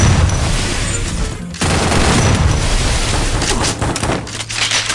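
Gunfire in a mobile battle-royale shooter, continuous loud blasts and rattling shots with a brief break near the middle, then sustained firing again.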